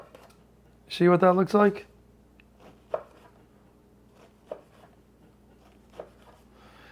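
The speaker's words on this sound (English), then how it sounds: "I'm just gonna cut this French bread into slices that we can fry." A knife slices through a loaf of French bread in three faint, evenly spaced cuts, each a soft crisp tick. A brief burst of speech comes earlier, before the cutting.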